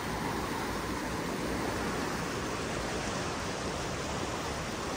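A flooded river in El Grullo, Jalisco, swollen more than a metre deep, rushes past as a steady, dense roar of churning water, loud and unbroken, with no voices.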